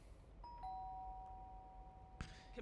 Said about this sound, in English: All right, we're gonna ring the doorbell.